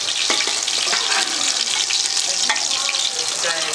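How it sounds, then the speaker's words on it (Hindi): Pav bhaji vegetables frying and being stirred in a hot pan, a steady loud sizzle with scraping and clinking of a utensil throughout, close up. "अब ये भाजी फ्राई होने जा रही है"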